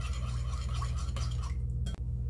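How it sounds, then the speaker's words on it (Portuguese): A spoon swirls and clinks softly in a cup of yeast dissolved in warm water, a continuous scraping stir over a low steady hum, ending with a brief knock. "Vou mexer aqui um pouquinho."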